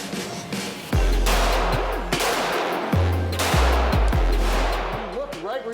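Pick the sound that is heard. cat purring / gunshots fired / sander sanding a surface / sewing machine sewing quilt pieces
gunshots fired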